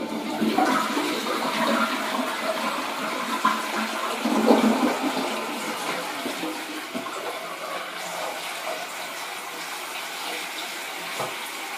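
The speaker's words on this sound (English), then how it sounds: "we will flush our toilet" A newly installed Pro Flow toilet flushes close by, a loud rushing gush of water at the start that settles into a steady trickle as the tank refills.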